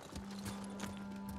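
Rapid clip-clop of horse hooves in the video game Ghost of Tsushima over a steady low hum, quick and close, with no talking.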